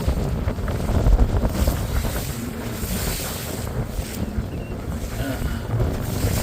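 A fishing boat runs through three-foot choppy waves on Clear Lake, California, with steady engine and hull rumble, splashing water and heavy wind buffeting the microphone throughout.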